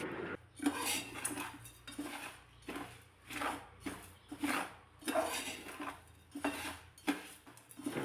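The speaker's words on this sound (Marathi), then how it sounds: "एक वाटी भरून भगर घालायची" Sago and barnyard millet dry-roast in a pan, with a spoon scraping and knocking against the metal in repeated rhythmic strokes over a soft background rustle of grains.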